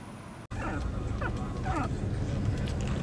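A dog whines and yips in short rising bursts inside a moving car, heard close over the steady low rumble of the road.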